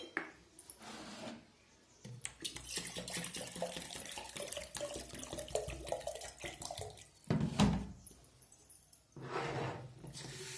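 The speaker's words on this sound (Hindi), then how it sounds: "और उसके ऊपर डाल देते हैं पानी, शुद्ध पानी जो हमने ताज़ा भरा हुआ है" Fresh water is poured over grains to soak them as birude for the Birud Panchami folk festival in Uttarakhand. It splashes steadily for several seconds, then comes in a few shorter pours with brief pauses between them.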